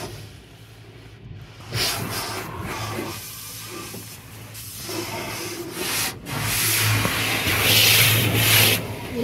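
Skin being scrubbed during a bath gives rough rubbing strokes, close and uneven, which swell louder toward the end.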